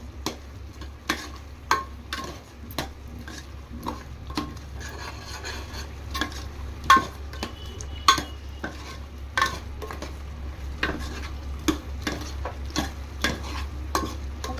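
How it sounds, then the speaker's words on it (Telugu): Eggplant and fish curry frying in a pan with repeated stirring, regular scraping and clinking strokes of a utensil against the pan over a low, constant sizzle, close up, with no talk. "ఒక 10 మినిట్స్ వరకు ఈ విధంగా ఫ్రై చేసుకుంటా మగ్గించుకోవాలా"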